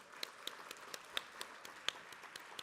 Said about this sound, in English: Let's give Victor and Selena a hand of applause for their work tonight.